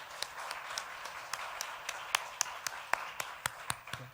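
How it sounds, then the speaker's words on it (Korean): Applause from a church congregation at a Korean new-year special Wednesday prayer meeting, heard as sparse, scattered claps with a soft crowd wash underneath, fairly distant and moderate in level. "은혜로운 말씀 전해주시고 합심기도 인도해 주신 김성철 선교사님, 감사의 뜻으로 큰 박수 부탁드립니다."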